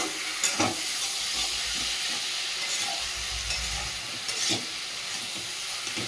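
Harina prawns sizzle steadily in a hot pan with a continuous loud frying hiss, broken by a few scraping stirs, with no voices.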